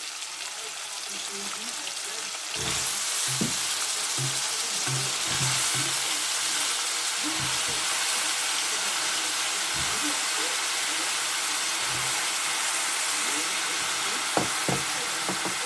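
Brinjal dropped into a pan with softened tomatoes, frying with a steady close sizzle after a sudden burst, punctuated by knocks and scrapes of a spoon stirring against the pan.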